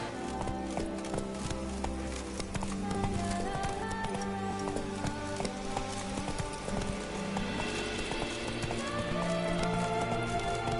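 Horse hooves clip-clopping in a gallop in The Witcher 3: Blood and Wine, rhythmic close hoofbeats with a neigh, layered under game music and a voice.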